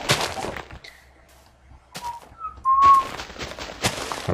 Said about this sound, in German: Hab grad gepfiffen.